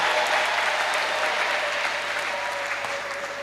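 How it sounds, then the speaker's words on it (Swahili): Applause from a church congregation during a Sunday love offering, a loud, steady wall of clapping that holds throughout and fades only slightly at the end. "Makofi kwao."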